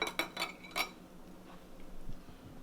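Glasses clink together in a toast during a backyard vegan grilling tasting, a few bright chinks in the opening second, then quiet room tone.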